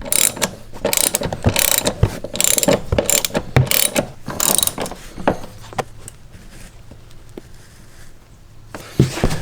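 Close ratchet clicking comes in quick repeated strokes as seat bolts are tightened on a Chevy Colorado, then thins to a few scattered clicks and handling noises.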